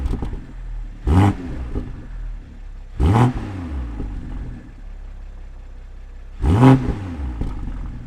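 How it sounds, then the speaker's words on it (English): A 2023 BMW M340i xDrive in Brooklyn Grey, stationary, gives three sharp revs with a short rising and falling whoop each, separated by steady idle. "let me go ahead and give you some revs"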